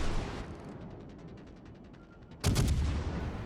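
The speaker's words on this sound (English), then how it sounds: "this Kagero starts firing shots at me, firing torpedoes down at the bearing I was coming in" A Kagero destroyer opens fire in a naval combat video game, with faint distant gunfire followed by a loud, sudden blast of shots and rumbling cannon fire near the end, no talking.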